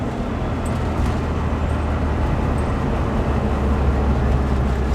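A 1967 bus with a 1904cc engine accelerating, its steady low engine roar and rumble filling the clip continuously at close range with no talk.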